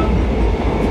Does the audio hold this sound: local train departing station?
yes